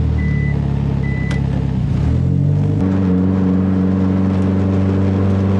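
A tuned Mitsubishi Evo X engine idles with a steady low hum, briefly shifting pitch before settling into a smooth, even drone.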